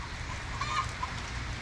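Chickens cluck softly in a backyard coop on a rainy day, faint scattered calls over a steady wash of rain and background noise.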